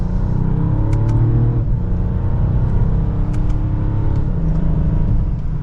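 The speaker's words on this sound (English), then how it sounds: "You can hear that engine and exhaust slightly, which I think is great." A 2024 Mercedes-Benz S580e in sport mode, second gear, with its engine and exhaust pulling hard under acceleration; a steady, moderately loud rumble and whir fills the cabin throughout, rising in pitch with a few faint clicks along the way.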